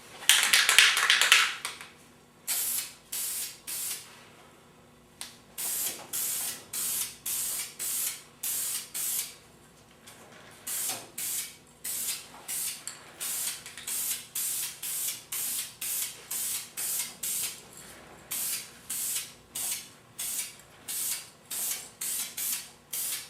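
Krylon spray stain hisses from an aerosol can onto wooden letters in short, regular bursts, one long spray first and then a steady series of quick spritzes with brief pauses between them.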